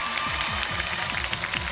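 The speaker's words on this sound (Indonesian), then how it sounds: "Oke, tepuk tangan dong sekali lagi dong." Applause from a studio audience at an Indonesian comedy TV show, a dense continuous patter of clapping filling the short stretch evenly, fairly loud and close, with no voices standing out.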